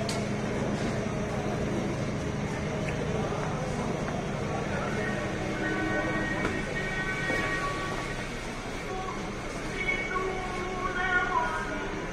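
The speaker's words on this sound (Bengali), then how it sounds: "তো এই যে আমরা ফাইনালি কমলাপুর রেলওয়ে স্টেশনে পৌঁছে গেছি।" Crowded platform at Kamalapur railway station in Dhaka, with a train sitting at the platform ahead of an evening express departure: a steady rumble of station and train noise, scattered tonal squeals and horn-like tones, and voices underneath throughout.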